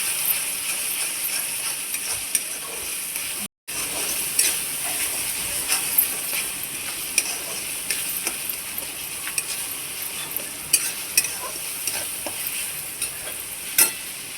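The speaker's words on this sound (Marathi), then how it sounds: "मसाला आता सर्व आपल्याला मिक्स करून घ्यायचा आहे" Spice masala with coriander powder and garam masala fries in a pan for a butter paneer cheese kheema, a constant sizzle broken by repeated scraping clicks of a spoon stirring, close and steady.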